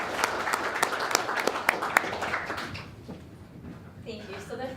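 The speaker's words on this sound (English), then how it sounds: "give a round of applause to start" Audience applause at a conference issue briefing, a burst of clapping from the crowd that fades out after about three seconds, followed by a voice speaking.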